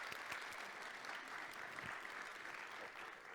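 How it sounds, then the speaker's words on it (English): An audience at a university event applauds a guest speaker with steady, even clapping that fills the whole stretch at moderate volume, with no one talking over it. "let's give her a round of applause"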